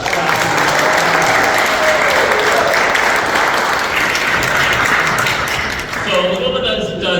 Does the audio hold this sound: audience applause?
yes